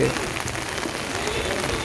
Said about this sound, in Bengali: আকাশে মেঘ গুড়ি গুড়ি বৃষ্টি